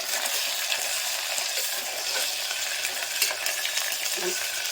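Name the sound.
sautéing onions with ginger garlic paste in pan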